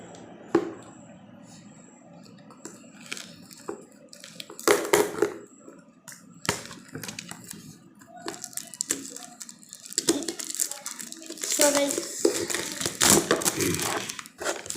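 Headphone packaging being unboxed for a gaming room setup, with bursts of crinkling plastic and crushing cardboard, scattered taps and rustles growing busier and louder toward the end, close by with no talk.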